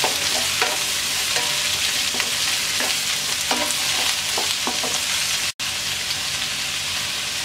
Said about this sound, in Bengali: পেঁপেটাকে 2 মিনিট নাড়াচাড়া করে ভেজে নেব।